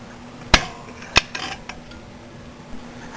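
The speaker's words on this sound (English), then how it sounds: "so I'm going to start prying." A pry bar levering a stuck brake rotor off a 2005 Mercury Montego AWD gives two sharp metallic clanks close up, followed by a few fainter knocks and scrapes against a quiet background.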